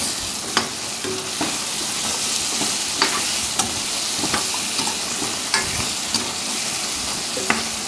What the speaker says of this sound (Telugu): ఇప్పుడు ఈ ములక్కాయలు మొత్తం కూడా ఈ కారం పట్టేటట్టుగా కలుపుకోవాలండి